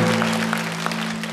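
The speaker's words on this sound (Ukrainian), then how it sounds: "зал аплодує" Studio audience applause at a Ukrainian comedy show, a dense, steady clatter of clapping held for the whole short stretch over a low room hum.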